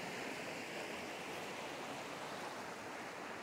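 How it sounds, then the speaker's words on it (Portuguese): A mountain stream beside a trail flows with a steady, even rush of water, constant and fairly soft throughout, with no voices over it. "É o riacho."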